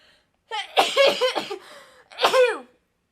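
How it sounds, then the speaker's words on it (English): A person sneezes sharply, then makes a second burst a moment later; close and loud, with quiet gaps. "That's how I sneeze."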